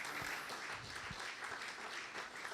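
A church congregation claps steadily for the Lord during a sermon, a dense, continuous wash of many hands with faint rhythmic beats, heard from a little distance and fairly quiet.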